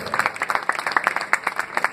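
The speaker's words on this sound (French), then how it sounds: "On applaudit très fort." A crowd at a cycling trophy ceremony in Laval claps, a crisp run of individual hand claps in an uneven rhythm, close and fairly loud, with no talk over it.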